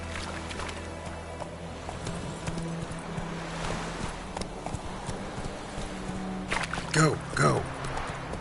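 Roach the horse from Witcher 3 trotting with rhythmic clip-clop hooves, while a voice speaks briefly over the steady gait.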